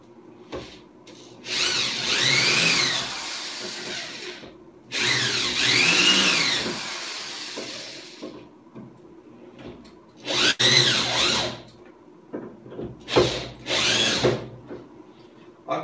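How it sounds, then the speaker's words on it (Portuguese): Power drill driving screws into pallet wood in a woodworking job, with several bursts of whirring, the pitch rising and falling as each screw seats, separated by short quiet gaps and brief handling noises. "Firmo aqui em cima da madeira e vou parafusar."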